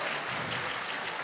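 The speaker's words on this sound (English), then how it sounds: "Give yourselves a round of applause for keeping this franchise strong." Applause from a convention audience at a Power Rangers panel, a dense, steady wash of clapping heard briefly and evenly.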